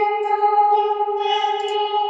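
A sustained, tonal vocal chop from the Nexus synthesizer plugin with steady harmonics and a processed, echoing sheen, playing alone.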